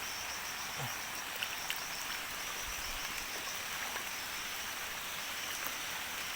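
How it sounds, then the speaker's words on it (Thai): Heavy rain pours steadily in a dense, continuous hiss, with occasional droplets and faint croaks mixed into the wash. "ตอนนี้คือฝนมาแรงแล้วทุกคน"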